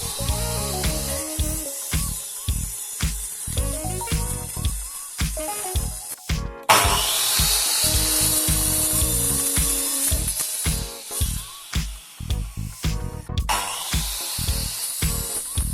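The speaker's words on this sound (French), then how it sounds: "je coupe le haut des 4 poteaux en angle" Bamboo posts for an outdoor tiki bar have their tops cut at an angle, a loud close power-tool cutting noise broken into rapid rhythmic bursts, then a longer sustained cut with a bright hissing edge.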